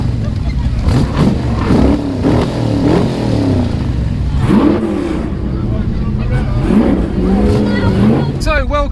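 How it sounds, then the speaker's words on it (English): A Ferrari Portofino convertible revs its engine in the rain, a steady loud low rumble with surges running under close, continuous talking. "the Portofino's revving, and it's raining still"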